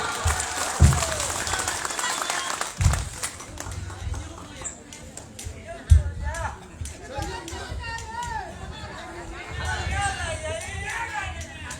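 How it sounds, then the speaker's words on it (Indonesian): Crowd applause at an outdoor political rally for regional election candidates, scattered clapping mixed with chatter and children's voices, punctuated by a few loud thumps and continuing under the hubbub. "Kita beri tepuk tangan."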